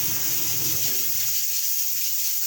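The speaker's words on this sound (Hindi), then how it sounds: "इसी तरह हम पानी में इसमें पानी चेंज करते रहेंगे ताकि जो है वो अच्छे साफ़ पानी इसमें आ जाए।" Water pours and splashes in a pot as it is drained and replaced while rice is being rinsed for a beef Afghani pulao; a steady, close hissing flow with low sloshing that fades after the first second.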